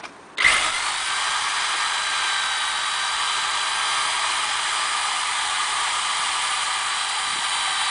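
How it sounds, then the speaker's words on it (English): A power drill with a sharp bit whirs into life and runs at a steady, loud, high pitch for several seconds during a DeLorean radiator and fan replacement. "Nice sharp drill bit he's got there."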